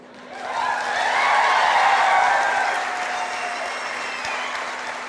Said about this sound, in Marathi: कशा टाळ्या वाढल्या